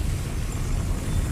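A Depulso force spell cast in Hogwarts Legacy, a brief, dense whooshing rumble that fills the moment evenly without a sharp start or end.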